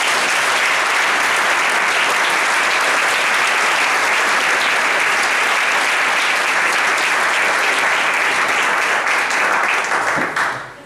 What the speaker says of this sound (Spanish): Por eso hoy voy a pedir un fuerte aplauso